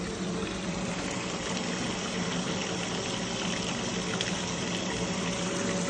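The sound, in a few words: dirty water flushing out of FRP water filter tank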